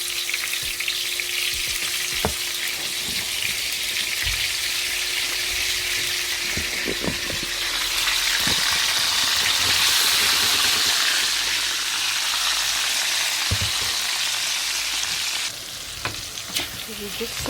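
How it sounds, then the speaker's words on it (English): Vegetables sauté in a hot pot on the stove for a brown stew chicken, with a steady, loud sizzle running throughout, occasional spoon clinks and scrapes, and a brief swell of frying noise in the middle. "We just saute these."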